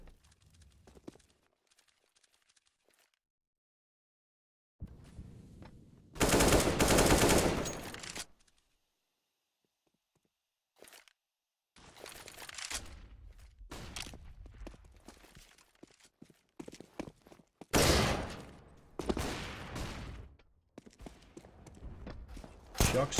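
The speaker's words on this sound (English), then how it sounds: "Apex trying his best in middle with that deagle, doing a decent amount of damage towards Waylander" Desert Eagle pistol shots in a Counter-Strike match at the IEM Katowice 2017 qualifier, heard as a few sharp bursts of gunfire separated by quiet gaps, with a caster talking over much of it.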